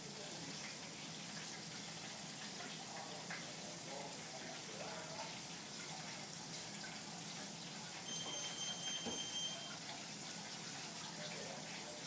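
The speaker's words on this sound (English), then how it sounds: "I'm gonna put some water in it" Water runs steadily into a cooking pot holding birria meat, onions and peppers, making a continuous soft gushing wash at moderate volume with no break.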